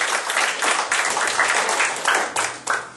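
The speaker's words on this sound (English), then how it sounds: "Give yourself a round of applause." A comedy club audience applauds, a dense, steady burst of clapping close by with no pause for the full stretch.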